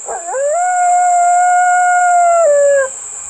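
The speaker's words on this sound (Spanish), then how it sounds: "El largo aullido innombrable de un coyote lejano." A single long coyote howl, a distant sound effect, rises, holds a steady wavering tone for about two seconds, then falls away over a faint high background hiss.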